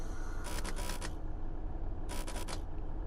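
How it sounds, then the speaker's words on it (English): Two short bursts of a guard buzzer sound in the cab of a GWR Class 150 train in Train Sim World 6, each roughly half a second long and separated by a gap, over a steady low engine rumble. "That's the guard buzzer."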